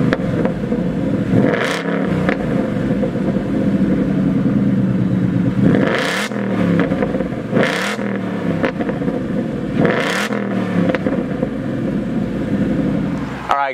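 A 2018 Roush Stage 2 Mustang convertible engine fires up and idles with a deep rumble, then blips through three sharp revs that rise and fall at a steady pace, loud and close with no talking.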